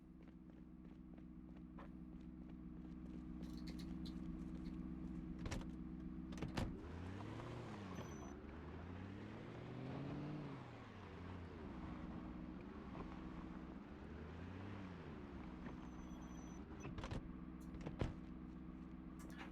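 A car drives in a zombie survival video game, its engine a steady close drone that repeatedly swells and sweeps in pitch as it speeds up and shifts, with no voices over it.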